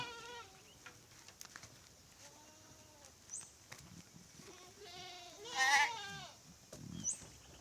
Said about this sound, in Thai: นี่คือแพะนะครับ